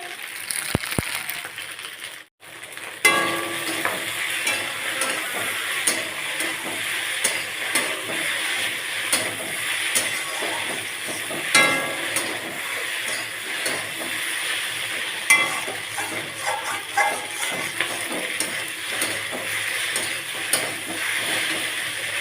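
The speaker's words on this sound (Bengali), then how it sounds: "আমি ভালোভাবে পাস্তাটাকে ভেজে নিয়েছি এবার দিয়ে দেবো পাস্তার মশলা" Pasta frying in a pan and being stirred with pasta masala: a continuous loud sizzle close by, broken by repeated scraping and clinking of a spoon against the pan, with no talk.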